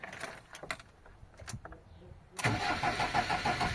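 Engine of a Fiat Ducato 1.9 TD camper van cranking and firing up, with a few faint knocks and clicks beforehand, then catching abruptly and settling into a loud, steady, close diesel idle.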